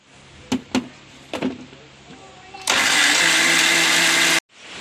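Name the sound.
mixer grinder grinding coconut for prawn mango curry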